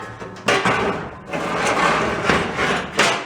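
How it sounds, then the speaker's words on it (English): Hammer blows on a scratch-built steel repair panel for a rusty Ford E100 pickup, several loud metallic knocks and scraping in quick irregular succession, close by with no talking. "Or you just beat it with a hammer when we're putting it in."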